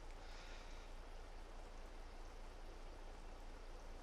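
Steady broadband rush of water pouring and splashing into a tank while filling in Farming Simulator, a continuous, even wash with no talk over it.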